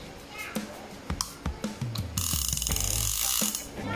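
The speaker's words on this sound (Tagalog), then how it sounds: "Yan yung tunog ng clicker niya." A few scattered clicks and knocks, then a Penn Fathom 25NLDLH overhead fishing reel's clicker ratchets rapidly in a continuous loud buzz for the last couple of seconds.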